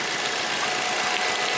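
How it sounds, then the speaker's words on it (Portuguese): A Volkswagen Gol G5 engine runs steadily under the open hood, a continuous even hum with a faint mechanical ticking throughout, close and unbroken, no voices. "motor funcionando perfeitamente"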